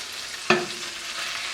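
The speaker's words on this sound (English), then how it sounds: "those aromatics are starting to sizzle and bust out their flavors" Steady frying sizzle of garlic and ginger in a hot pan for chicken yakisoba, broken by one quick metallic clink of a spoon near the start.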